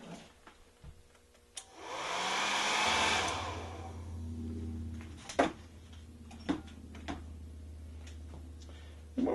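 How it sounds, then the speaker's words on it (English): A hair dryer blows with a steady whooshing roar for a few seconds, then cuts off, followed by scattered clicks and light handling noises. "We're going to take a moment and dry this with our hair dryer."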